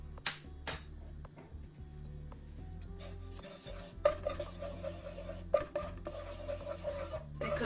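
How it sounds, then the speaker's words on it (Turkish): Spoon stirring and scraping flour being toasted in a couple of tablespoons of oil in a pot, soft rubbing strokes with occasional light metallic clinks, fairly quiet and steady. "karıştırarak unun kokusu hafif çıkmaya başlayana kadar kavuruyoruz"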